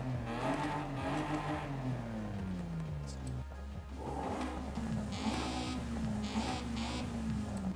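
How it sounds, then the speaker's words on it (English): A Honda's engine revs in the Forza Horizon 5 racing game, a droning tone that falls in pitch, dips, then climbs and holds steady, close and loud with no talk. "Sounds like a Honda."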